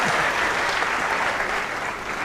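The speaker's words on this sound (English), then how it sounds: "You should have applauded more." Brief burst of dense, steady applause from an audience welcoming the Deputy Speaker of Taita Taveta, fairly loud and close, fading slightly toward the end.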